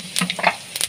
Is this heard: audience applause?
no